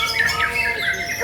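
Murai batu songbird at an outdoor bird-singing contest, giving sharp squawking calls and sweeping whistled notes that run continuously and fairly loud, with crowd noise faint in the background.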